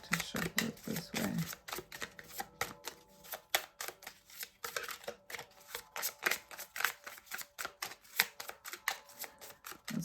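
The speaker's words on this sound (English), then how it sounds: "I have a better grip to shuffle it this way" A deck of tarot cards is shuffled by hand in quick repeated bursts of riffling and flicking, close and steady with no talking.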